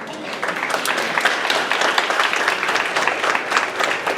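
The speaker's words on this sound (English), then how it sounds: "Yeah, you deserve more applause for that." An indoor audience at a creative event claps in a sustained burst of applause, dense and fairly loud, with a few faint voices under it.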